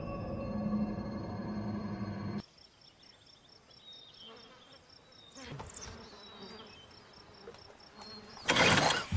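Swarm of wasps or bees pouring out of a nest inside a tree in a film scene: a steady insect buzz with high whining tones that comes in after a loud opening passage, closing with a sharp noisy burst.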